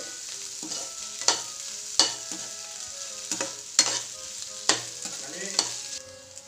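Grated potato filling for aloo methi paratha sautés in a pan, a quiet sizzle punctuated by about six sharp metallic spatula clanks at irregular intervals, close and distinct.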